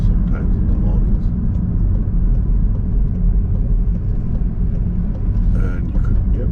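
A car's engine and road rumble fill the cabin steadily during a driving lesson as the car slows and takes a tight left turn onto a test road, with a voice faintly present.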